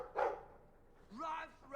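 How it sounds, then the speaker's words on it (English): A dog in Dragon Age II gives a short bark, then a couple more yips and whines, fairly quiet and close, mixed with a person's voice. "I like the doggy."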